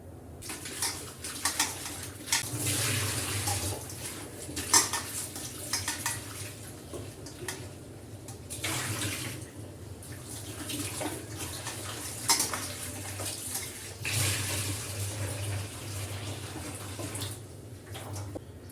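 Water splashes and sloshes in a bowl as cut ash gourd slices are rinsed by hand, with bursts of running water and light clinks, no talking.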